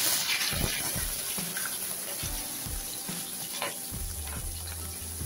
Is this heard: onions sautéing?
yes